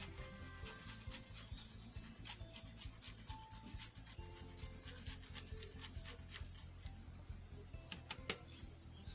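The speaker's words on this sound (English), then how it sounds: "I have to grate the garlic here." Garlic is grated by hand in a village kitchen, giving a steady run of quick rasping strokes at close range amid quiet outdoor background noise.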